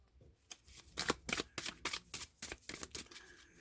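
A deck of Egyptian Tarot cards shuffled close by, with around a dozen quick papery riffles and flicks in an uneven but steady run. The sound is soft and near, and nobody speaks.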